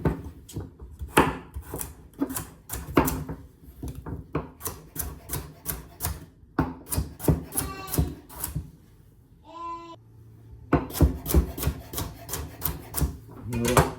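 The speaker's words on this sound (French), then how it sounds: "On va couper en cubes." A knife chops vegetables into cubes on a wooden board in rapid bursts of sharp, close taps, pausing briefly between runs, with faint background hum.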